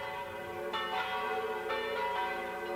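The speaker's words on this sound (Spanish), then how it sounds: "las campanas de la iglesia de la ciudad de Roma proclamaron a Alejandro Borgia como el nuevo papa" Church bells in the city of Rome ring together in overlapping, sustained tones, with several distinct strikes spaced about a second apart over a steady resonant hum, moderately distant and without voices.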